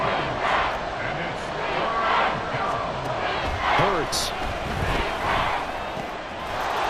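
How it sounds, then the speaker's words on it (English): Stadium crowd noise in a Madden football video game, a loud continuous roar with swelling cheers under a commentator's voice. "Well, this crowd making it hard to hear."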